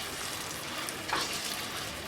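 Eggplant and potato sizzle in hot oil with turmeric and salt while a spoon stirs them, producing a steady close crackle with a brief scraping swell midway.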